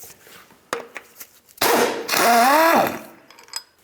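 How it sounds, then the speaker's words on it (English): Removing an 18mm bolt from the torque strut of a 2010-2013 Nissan Versa: sharp clicks and clacks of tools on metal, then a loud sustained burst of mechanical noise lasting about a second, heard up close with no talk. "Go ahead and remove this 18mm headed bolt."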